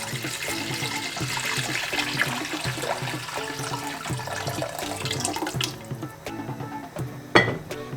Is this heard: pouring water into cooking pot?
yes